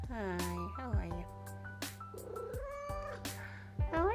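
A cat meows repeatedly in tonal, rising and falling calls, close and fairly loud, while someone speaks to it in an affectionate voice between the cries.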